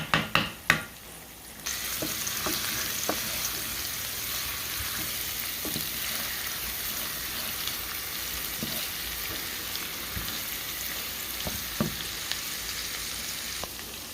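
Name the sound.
minced garlic frying in a pan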